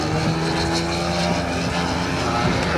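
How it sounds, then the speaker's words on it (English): A large model airplane, with a modern model of a late-1940s Pitts Special flying nearby, performs aerobatics at an air show, its loud propeller engine droning steadily and climbing vertically, with no talk. "See the way the airplane goes up vertically without a second's thought."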